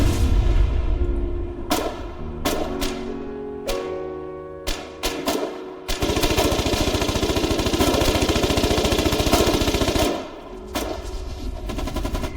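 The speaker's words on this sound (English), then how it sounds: "At least I thought, until the tank arrived over the hill." Heavy gunfire in a video game battle as a tank arrives over a hill: scattered loud single shots give way to a long sustained machine-gun burst with rumbling engine underneath, then more isolated shots, no talking.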